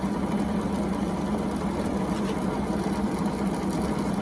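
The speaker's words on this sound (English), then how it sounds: "Now that goes around there good, and we start our lathe and watch what happens." A metal lathe runs with a homemade split steady rest fitted, giving a steady, even mechanical hum with a faint whir, constant and close throughout.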